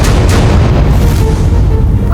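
A bomb blast sound effect from a TV crime drama, a small bomb hidden behind a victim's eye, booms loud and dense, a sustained low roar filling the whole moment.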